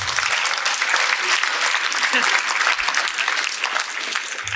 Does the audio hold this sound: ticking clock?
no